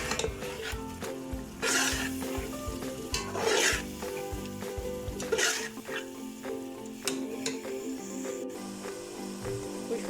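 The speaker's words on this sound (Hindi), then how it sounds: "अब इसको मसाले के अंदर इसको मिक्स करूँगी" Crushed moong fritters being stirred into a frying masala in a pan: a steady sizzle runs throughout, with repeated scraping strokes of a spoon against the pan and occasional metallic clinks, close and moderately loud, with no talking.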